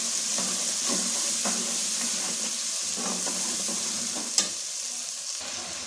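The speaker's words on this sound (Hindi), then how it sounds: "टमाटर के गलने तक हम फ्राई करेंगे।" Tomatoes with black pepper, turmeric and red chili frying in a pan for fish curry give a steady, close sizzle, with occasional stirring scrapes and a brief clink near the end.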